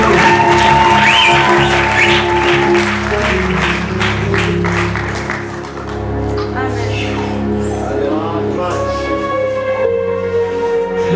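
A church congregation in Bethlehem Parish, Kimironko, bursts into clapping during a service, a dense wash of applause with voices and tonal music running underneath throughout.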